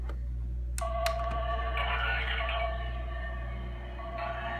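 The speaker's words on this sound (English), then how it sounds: "the blasts become more intermittent because this is the sound of the rocket in space" A Playmobil toy rocket plays its in-space blast sound effect, with sharp electronic bursts followed by a sustained, wavering synthetic tone, fairly quiet and close, with no voices.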